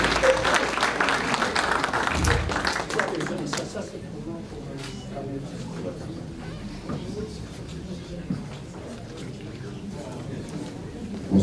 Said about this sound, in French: Les applaudissements, on applaudit.